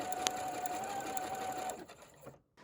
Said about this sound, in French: Là j'utilise le point 6 de la Brother FS40